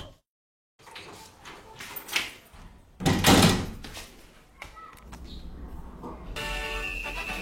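A door opens indoors with a few knocks and thunks. A louder bump or slam comes midway, followed by lighter rattles and a steady background hum. No one talks.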